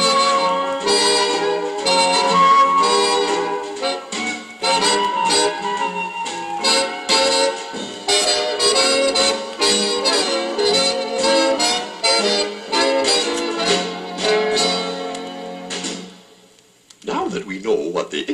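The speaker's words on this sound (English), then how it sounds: "The Pythagoreans played using a flute and an early version of the bass violin and a lyre." Flute, bass violin and lyre playing together in a dense melodic ensemble passage, busy plucked and sustained notes throughout, briefly thinning near the end before a short resumption; no talking.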